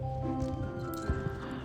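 Horse hooves and a neigh in Star Stable Online: clip-clopping footfalls with a whinny over steady in-game music, moderately loud, with no speech.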